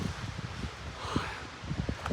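Gusty wind buffets the microphone with low rumbling bursts, alongside faint rustling, steady and fairly quiet outdoors on a long-distance hiking trail.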